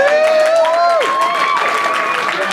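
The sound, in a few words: applause at a birthday gathering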